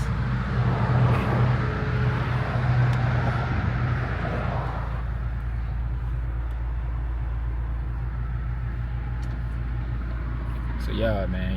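A 500hp Mk5 Toyota Supra cruises on a freeway, its steady low engine drone and road roar continuous throughout from inside the car, easing slightly after a few seconds.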